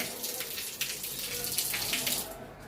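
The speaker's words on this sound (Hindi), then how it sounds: "यहाँ पानी चालू है बता रहे हैं भाई।" Water runs steadily from a tap in the washing area of a flat's kitchen, a continuous close splashing rush that thins out near the end, with no talking over it.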